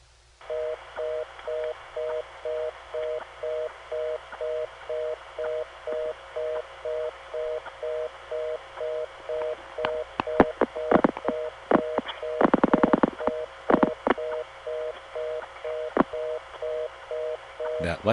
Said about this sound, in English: You'll hear 4 digits dialed over the reorder.